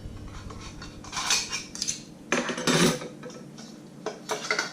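Metal camping pots and pans clink and clatter in several short bursts, close by, with quiet pauses between them and no voices.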